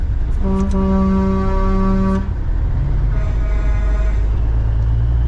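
Semi trucks rolling down the road in convoy, a long air horn blast sounding twice over the steady low drone of diesel engines nearby.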